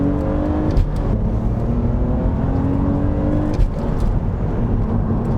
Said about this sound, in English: BMW 6-cylinders make a great noise.